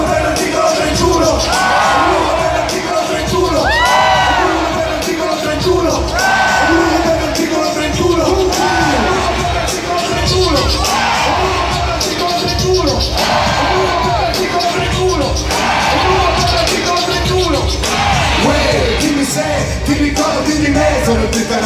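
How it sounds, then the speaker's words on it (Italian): A large concert crowd at a reunion show yells and cheers loudly and continuously, a dense roar with whoops and shouts rising in waves across the whole stretch. "Fai un urlo, voglio sentirlo, ti dà motivo per aiutarlo."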